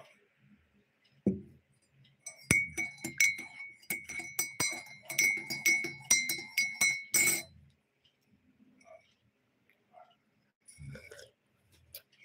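Several glasses clink together in a quick flurry of bright chimes, close by, then fade into quiet with faint movement afterward.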